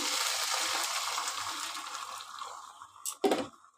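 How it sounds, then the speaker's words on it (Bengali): Water pours into a cooking pot for boiling cauliflower, a steady rushing splash that gradually thins out and ends with a few louder sloshes. "এবার আমি জল দিয়ে দিচ্ছি"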